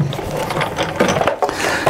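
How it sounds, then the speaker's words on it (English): A Big Shot die-cutting machine cranks grey card through its rollers, giving a close, uneven run of ratcheting clicks and grinding mechanical creaks. "So I'm going to pop that into my Big Shot machine and run it through"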